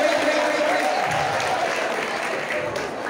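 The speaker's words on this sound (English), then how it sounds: "Give them a big round of applause." A crowd claps in a big round of applause, a continuous broadband patter of many hands that holds steady and eases slightly toward the end.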